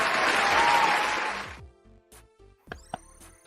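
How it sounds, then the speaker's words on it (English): A canned hand clap sound effect plays as a dense burst of applause-like clapping for about a second and a half, then cuts off, leaving faint background sounds and brief noises. "I got to get the hand clap"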